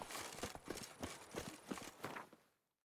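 Roach, a horse in The Witcher 3: Wild Hunt video game, gallops with quick, steady clip-clop hoofbeats, moderately close. The hoofbeats fade out near the end.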